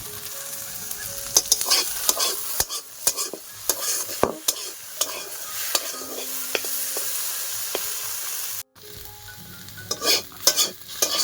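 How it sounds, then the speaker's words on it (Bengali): Mustard seeds dry-roast in a wok while a spatula stirs and turns them, giving steady frying crackle with frequent sharp scraping clicks of the utensil against the metal, close and fairly loud. "সরষেটা একদিক সেঁকে নিয়েছি আর একদিকে আবার উল্টিয়ে দেবো।"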